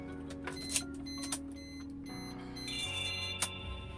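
An old Suzuki Swift is started up, giving a few electronic beeps and chimes followed by a rising engine and electrical hum, close and fairly quiet.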